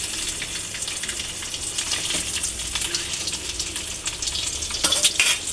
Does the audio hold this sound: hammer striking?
no